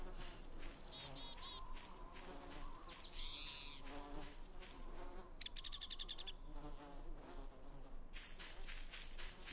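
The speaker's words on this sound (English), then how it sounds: "Oh, is there like a hive on the tower there?" Bees buzz around a hive on a tower in the video game Voices of the Void, a close, wavering insect drone with high chirps and synthetic tones layered over it, and some faint background sound.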